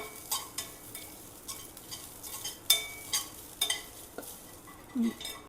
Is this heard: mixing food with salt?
yes